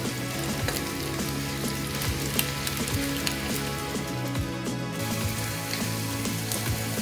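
Chicken gola kebabs fry in a pan with a steady, close sizzle and spitting crackle that holds throughout, with no voices.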